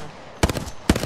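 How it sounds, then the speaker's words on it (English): Two sharp bursts of video game gunfire, each a quick rattling volley, stand out loud and close against a quiet background. "Now I'm gonna shoot him."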